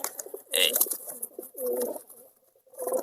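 Local Giribaz pigeons coo in several soft, throaty bursts close by, separated by brief pauses.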